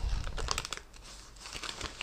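A paper letter envelope being handled, close soft crinkles and rustles in quick irregular bursts, quiet and alone.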